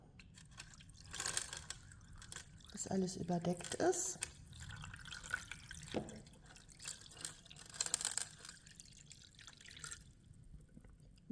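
Water is poured into a tub holding a block of paper, along with rusty water, for dyeing, giving faint trickling and splashing with scattered drips under someone speaking German.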